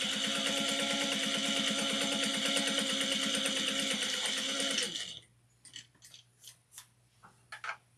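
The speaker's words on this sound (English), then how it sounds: "I do a few back stitches." A sewing machine runs a steady, fast stitching burst for about five seconds while back stitching a fabric wristlet, then stops, leaving a low hum and a few faint handling clicks.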